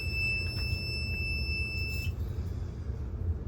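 A fire alarm system under test gives a steady, piercing electronic tone for about two seconds over a low rumbling background, then cuts off, leaving only the rumble.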